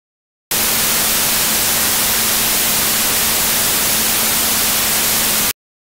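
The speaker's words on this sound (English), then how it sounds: "there's a lot of noise, but buried deep down in this noise is my original 220 Hz sine wave signal." A burst of loud, even dither noise like static, with a faint steady 220 Hz sine tone just audible underneath, starting and stopping abruptly.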